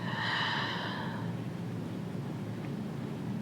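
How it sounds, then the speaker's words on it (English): A slow, breathy exhale rises near and clear at the start of a guided meditation, fading out after about a second into a steady low room hum with no talking. "deep breath out."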